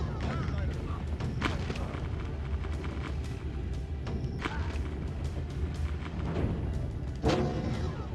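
Stray missile explosions in Rise of the Triad, repeated sharp blasts and booms over a dense, constant din of game combat noise, fairly loud and evenly spread through the clip.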